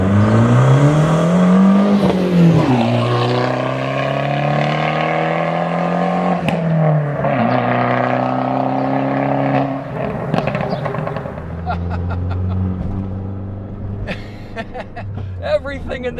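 A Fiat 500 Abarth pulls hard through its gears with turbo boost, engine note climbing and dropping across shifts, loud and close from inside the cabin, with clicks and rattles near the end.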